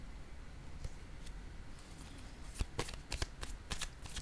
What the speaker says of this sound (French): Je vais déposer une carte sur la prospérité à l'envers.